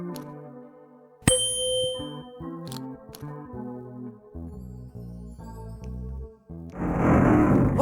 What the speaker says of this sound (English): The opening mechanism seems to have activated with the sound of the instrument.